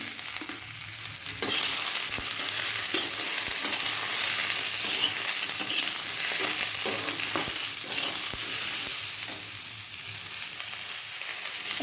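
Ground cumin and turmeric sizzle and fry in a hot pan with oil, giving a steady close crackle. Occasional stirring scrapes cut through, and no one speaks.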